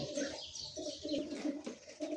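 A breeding pair of pigeons coo softly and close by, giving repeated low, throaty coos in a rolling rhythm over about two seconds with no voices.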